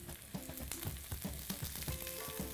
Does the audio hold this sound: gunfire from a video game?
no